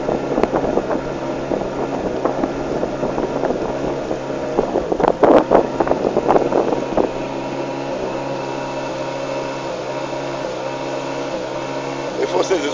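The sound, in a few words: boat engine accelerating on river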